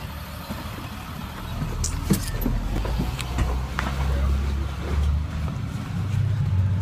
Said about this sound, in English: Yeah, here we are on the bus.